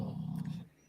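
A dog snores in a low, steady rumbling drone lasting under a second, close and fairly loud, then fades.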